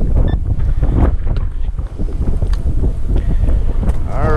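Strong wind buffets the microphone on a beach while out metal detecting, a steady low roar with gusts and faint surf underneath.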